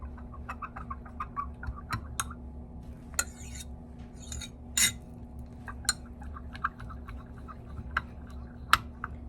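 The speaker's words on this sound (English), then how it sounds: "So let me give it a stir real quick." Gunmetal flake mixture for a coreshot mold is stirred in a container, giving sparse, quiet clicks and light taps scattered over several seconds in a hushed room.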